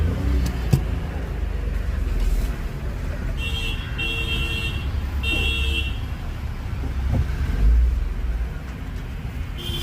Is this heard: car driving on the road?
yes